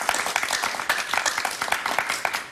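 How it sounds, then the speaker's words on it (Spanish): Studio audience applause for guest José Antonio on a Venezuelan-themed evening talk show, a dense steady patter of many hands clapping close and fairly loud for about two and a half seconds, with no one speaking over it. "un aplauso para José Antonio."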